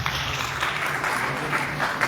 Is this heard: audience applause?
yes